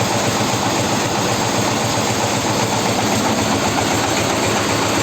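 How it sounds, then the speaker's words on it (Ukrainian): A PTO-driven mulcher runs on a Forte 181GT 4x4 tractor, giving a steady, loud, continuous engine drone with low pulsing vibration throughout. "невеличкий пуск, гідравлікою підняв і от дивимося, крутиться."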